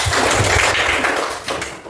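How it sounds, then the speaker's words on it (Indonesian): A class of children clapping together for a thank-you cheer, a quick run of close, dense claps that fades toward the end. "Ya, tepuk tangan dulu."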